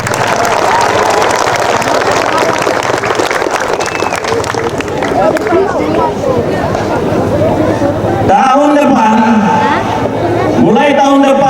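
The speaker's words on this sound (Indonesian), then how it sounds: "Tepuk tangan dulu" Dense, loud clapping and crowd noise from an audience at a regency official's speech about school aid in Keerom, filling the first several seconds before fading as an amplified voice takes over.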